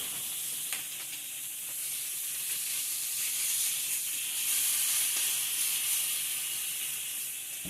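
Pork steaks sizzle and hiss steadily on an Ozark Trail griddle as butter goes on, a bright continuous crackle with small pops and no voices.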